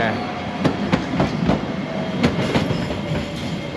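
An old light railway train rolls past nearby with rhythmic clicking of wheels over rail joints and a steady rumbling hum.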